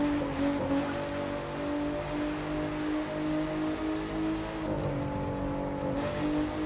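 A Porsche Cayman GT4 from the racing game The Crew 2 drives along a highway, its engine holding a steady droning hum under a constant rushing noise.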